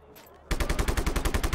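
Rapid automatic gunfire from the Just Cause 3 video game bursts in loud and close after a quiet moment, a fast continuous rattle of shots with no talking over it.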